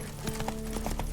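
Roach, Geralt's horse in The Witcher 3, trots with a quick, steady clip-clop of hooves, close and moderately loud over a low ambient hum.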